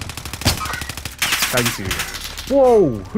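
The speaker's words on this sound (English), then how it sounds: "who else is shooting?" Rapid bursts of gunfire in a first-person shooter crack out in several sharp volleys, close and loud, mixed with excited talking from a player.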